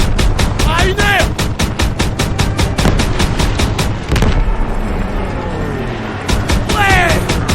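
Rapid, continuous machine-gun fire in the video game Call of Duty WWII, loud and rhythmic with dense bursts and a short lull, mixed with shouted voices.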